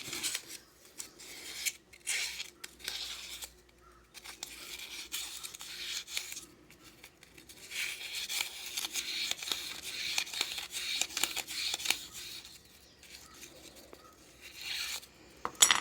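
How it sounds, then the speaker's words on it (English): Sandpaper scrubs over the metal clutch parts of a Stihl FS-series string trimmer being repaired, steady raspy rubbing in bursts with short pauses, close and fairly quiet. "take you some sandpaper and"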